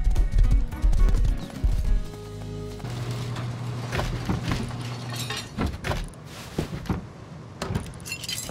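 Hooves clip-clop from a horse in the survival video game Rust, rhythmic and fairly close, mixed with jangly metallic rattles and game ambience.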